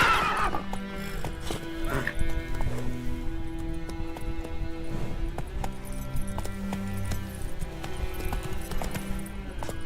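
Roach, Geralt's horse in Witcher 3, neighs loudly at the start, then trots with a steady clip-clop of hooves under continuous game music.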